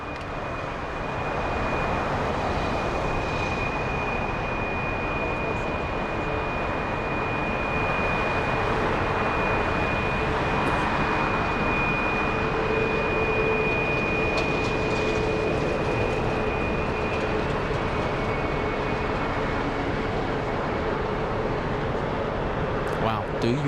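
Boeing 777 with GE jet engines spooling up at Los Angeles International Airport, a steady broad roar with a sustained high whine, loud and constant throughout, faint voices underneath.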